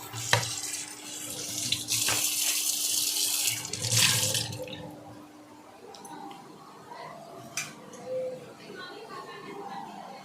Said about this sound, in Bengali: এইভাবে ধুয়ে নেবো তাতে কি হবে চাউমিন পুরো ঝরঝরে থাকবে